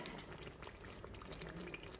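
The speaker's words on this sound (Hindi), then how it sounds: "अब हम इसमें चिकन की स्टॉक जो है वो ऐड करेंगे।" Chicken stock and water pour into a pot of rice for Chinese pulao, giving a steady, faint bubbling and splashing liquid wash with no talk.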